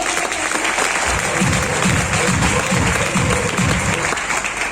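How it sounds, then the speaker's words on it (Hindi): An audience at a youth training event breaks into loud applause, with steady rhythmic clapping and crowd noise filling the few seconds. "एक बार जोरदार तालियां हो जाए"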